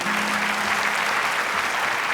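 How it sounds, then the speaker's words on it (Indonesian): A studio audience at a Hafiz Indonesia 2019 Quran recitation contest applauds the jury, a steady dense wash of clapping that stays loud and even throughout without a break. "tepuk tangan untuk Dewan Juri kita"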